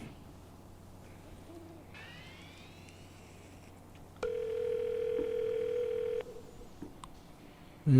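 An unanswered telephone in the Space Station 13 video game: after some faint rising electronic chirps, a single long, loud ring tone holds for about two seconds, then stops, leaving quiet until a short burst at the very end.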